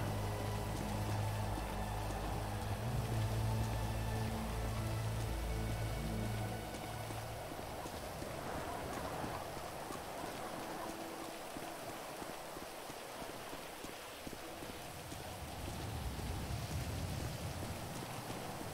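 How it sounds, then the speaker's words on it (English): Steady rain falls and patters on a surface outdoors, a continuous broadband hiss that stays fairly loud throughout, with some low rumbling in the first few seconds and no talking. "I hate this rain."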